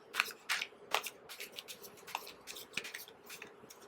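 Tarot cards being shuffled by hand, a run of quick, crisp riffling snaps and soft slides in an irregular rhythm, close and fairly quiet with no speech.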